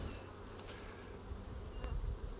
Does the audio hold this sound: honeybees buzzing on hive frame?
yes